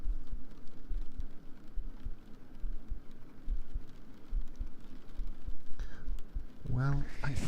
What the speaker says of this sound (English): you can hear my heartbeat better now, huh?